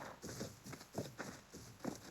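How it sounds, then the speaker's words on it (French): Horses in the video game Ark walk with soft, rhythmic hoof clip-clops, quiet and steady against a low game ambience. "alors il y a des chevaux"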